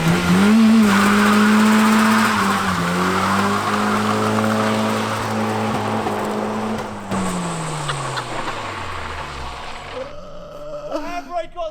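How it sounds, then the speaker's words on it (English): A modified car doing a huge burnout, its engine screaming at high revs over long squealing tyres for several seconds before the revs drop away, with voices near the end. "And then we're going to do a huge burnout."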